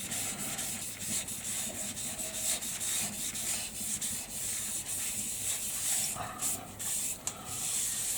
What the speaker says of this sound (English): I'm just going to quickly just add a little bit of sanding sealer to this